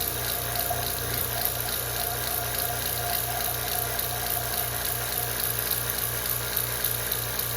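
Liquid nitrogen boiling in a container as it cools, a steady, even hissing bubble with a faint low pulsing throughout, no voices.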